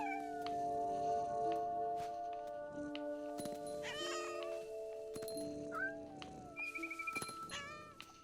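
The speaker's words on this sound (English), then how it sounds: "This kitty." A cat in the video game What Remains of Edith Finch meows several times, with drawn-out, wavering cries over a sustained musical tone, separated by short pauses and a few faint clinking sounds.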